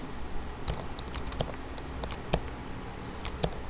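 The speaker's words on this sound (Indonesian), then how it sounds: "mungkin saya dekatkan ke keyboard ya, ini apa, mic-nya. Jadi kalau saya pencet D" A computer keyboard sits close to the microphone, and its D key is pressed, giving a scattered series of crisp, light key clicks at an uneven pace over a faint background hum.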